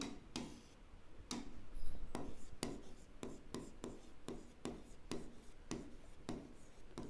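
Chalk or marker tapping and scratching on a board while working a geometry problem on arc and chord area, a quiet series of about a dozen sharp strokes at a steady, ticking pace with no voice.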